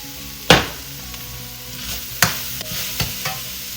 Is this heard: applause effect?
no